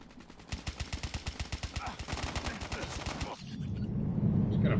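Rapid automatic gunfire in the video game Call of Duty Mobile: a fast, evenly spaced burst of around twenty shots lasting nearly three seconds, then a softer rushing background noise.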